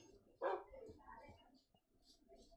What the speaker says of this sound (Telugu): ఇక్కడ చాలా ఉన్నాయి కుక్కలు.